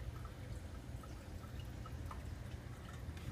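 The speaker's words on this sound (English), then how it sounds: "I know the crabs love the moving water on the filter." Water moving through the filter of a brackish aquarium with crabs and mollies: a quiet, steady trickle and gurgle with faint scattered drips, low and continuous, no talking.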